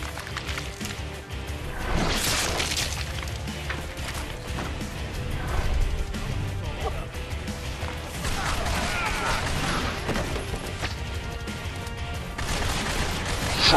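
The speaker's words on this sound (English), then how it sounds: "Wow, that was bad shooting." Gunfire in the first-person shooter The Darkness, a steady run of shots and crashes mixed with game noise throughout, with someone talking over it.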